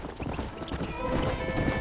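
A horse trots in the Xbox 360 game Red Dead Redemption, its hoofbeats a busy, fairly close clip-clop over a soft bed of game ambience and faint tonal music.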